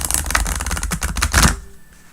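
Tarot cards riffled in a quick shuffle, a dense close flutter of papery slaps for about a second and a half, then stopping into quiet.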